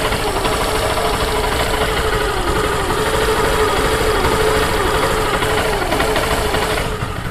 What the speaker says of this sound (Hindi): बाइक स्टार्ट हो गई है और स्टार्टिंग में कोई प्रॉब्लम नहीं है